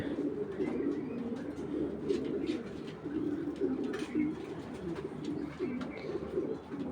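Racing pigeons cooing in repeated low, throaty rolls over a continuous murmur of background noise, with someone talking in the surroundings.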